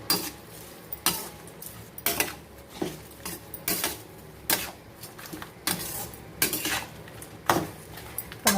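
A spoon scrapes and clinks against a pan at a steady rhythm while vegetables sauté with salt. The metallic strokes are close and distinct, with a low sizzle underneath and no voices.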